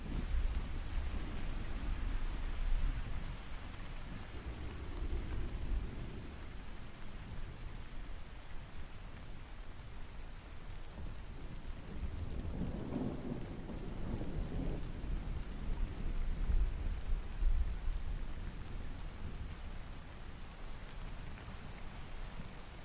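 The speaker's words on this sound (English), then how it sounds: "Yo, I just heard crazy thunder outside right now." Steady rain falls outside through a thunderstorm, a continuous wash of drops with deep rolling thunder rumbling in the middle, heard from indoors at moderate loudness with no talking.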